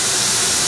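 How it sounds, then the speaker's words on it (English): Steam escaping from the end of a steam line in a dry cleaning plant, heard as a loud, steady broadband hiss that carries through the whole brief moment with no voices. "If we had wet steam, like I'm going to show you, this is kind of on the end of a line here."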